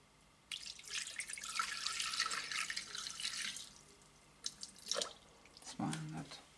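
Water poured for yeast dough and weighed on a kitchen scale, a bright, splashing stream lasting about three seconds, followed by a few short drips and a soft clunk.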